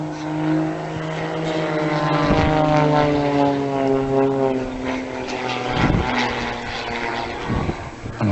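An aerobatic propeller plane nearly hovering in place drones steadily with a strong, pulsing engine tone whose pitch shifts slightly, close and loud throughout, at the Rennes air show.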